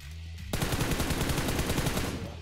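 Rapid burst of AWM sniper rifle fire from the BGMI battle game, a loud run of evenly spaced cracks after a short quiet lead-in, with no voices.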